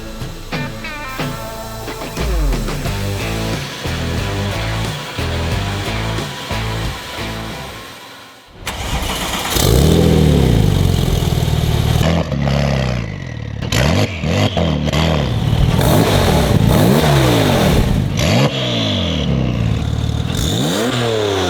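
A Porsche fitted with a custom-built valved exhaust, first heard as music-like tonal sweeps, then a loud, continuous engine roar with repeated rising and falling revs.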